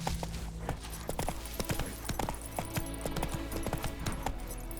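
A horse trots along a road in The Witcher 3: Wild Hunt on PlayStation 5, its hooves clip-clopping in a quick, steady rhythm under quiet game ambience.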